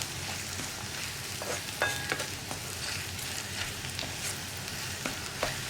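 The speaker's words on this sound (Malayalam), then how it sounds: "ഇനി നമുക്ക് വെണ്ടക്കായും കൂടി ചേർത്ത് കൂട്ടി അങ്ങ് ഇളക്കി കൊടുക്കാം" Okra and egg frying together in a pan for a thoran, with a constant close hiss and occasional light stirring clicks and scrapes, no speech.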